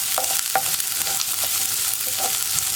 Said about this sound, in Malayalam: ഇഞ്ചിയുടെയും വെളുത്തുള്ളിയുടെയും റോ ടേസ്റ്റ് മാറി വരുന്നത് വരെ നമ്മളൊന്ന് ഇളക്കി കൊടുക്കുക